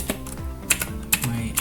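Typing on a computer keyboard while entering a database command, a quick irregular run of close key clicks with a few sharper taps.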